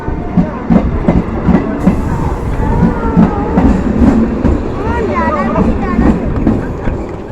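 A train rattles past with rhythmic clickety-clack from the wheels, loud and close, while people talk over it.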